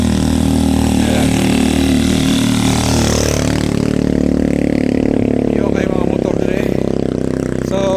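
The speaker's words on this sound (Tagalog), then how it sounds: "kini na nagtungas nga motor" A motorcycle climbs a hill on a partly paved rural road in Bansalan, its engine straining and revving nearby as it passes, while a person talks over the noise.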